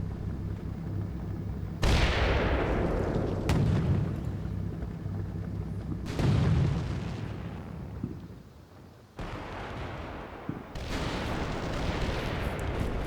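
Gunfire and artillery in the Combat Mission Cold War video game: a run of loud, broad booms and blasts with long rumbling tails, several big impacts spaced a few seconds apart, continuous and dense throughout.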